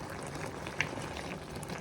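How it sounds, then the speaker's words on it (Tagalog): Broth of coconut milk with eggplant and pork ribs simmering in a pot, a soft, steady bubbling hiss close by with one small pop, no talking. "Patuyuin ko itong sabaw."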